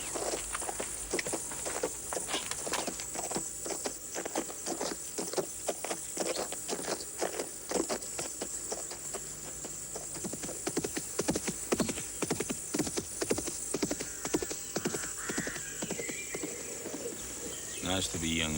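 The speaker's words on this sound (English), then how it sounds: "He looks after the horses for Mademoiselle Christie." Hooves clip-clop in a brisk, uneven rhythm on a hard surface, with insects chirring faintly in the background throughout.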